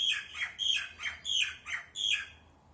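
A bird flying past gives six harsh squawks in an even, rapid rhythm, loud and close, with no voices over them.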